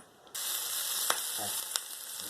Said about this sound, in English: I'm going to turn on my burner with the butter, and I'm going to just fry this